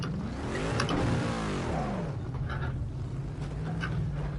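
A Bentley engine in Gran Turismo 7 revs loudly and continuously, its pitch climbing and dipping as the throttle is worked, with no talking.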